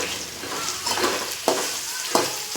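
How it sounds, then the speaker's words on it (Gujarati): Potato pieces frying in hot oil for spiced Maggi rice, a continuous close sizzle broken by two sharp stirring scrapes against the pan. "તો આપણું બટેકું પણ તેલમાં એકદમ ફ્રાય થવા માંડ્યું છે"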